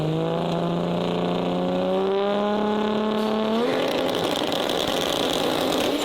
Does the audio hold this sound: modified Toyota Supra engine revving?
yes